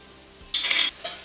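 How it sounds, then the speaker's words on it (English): Whole cumin seeds and aromatics drop into a hot pan for Trini curry chicken, setting off a brief, sharp sizzling burst that quickly fades, followed by a second smaller crackle. "we'll cook until the edges are golden brown"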